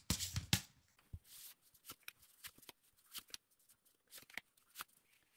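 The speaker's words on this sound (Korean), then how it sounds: "카드 뽑아볼게요." Tarot cards being shuffled and drawn, with a dense riffling burst at the start followed by a run of sharp, close card slaps and flicks at an uneven rhythm, heard alone.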